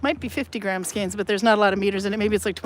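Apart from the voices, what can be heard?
None of the usual background noises is heard.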